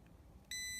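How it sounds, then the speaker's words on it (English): A non-contact voltage tester sounds a short electronic beep while checking live wires during a 3-way LED dimmer switch install, a single bright tone starting abruptly near the end over quiet room hum. "regular mode that makes a noise, beeps"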